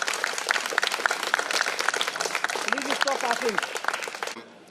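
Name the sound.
audience applause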